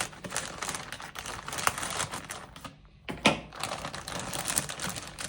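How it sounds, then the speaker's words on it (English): Quick, dense snipping and crinkling of plastic chicken packaging cut with scissors close by, a busy run of small cuts broken by a brief pause and a louder snip. "Trusty scissors."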